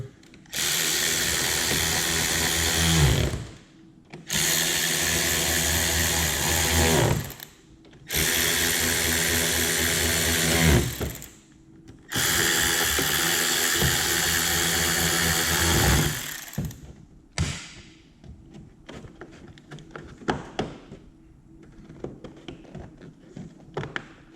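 A power drill running in reverse whirs close up in four long bursts separated by brief pauses, driving screws while fitting LED sidemarkers on a Dodge Charger Daytona, then trails off into scattered rattles and clicks.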